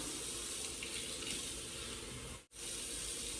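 Tap water runs steadily into a container being filled to the rim for dissolving bread yeast, in a home kitchen, a continuous close hiss that cuts off briefly near the end before resuming.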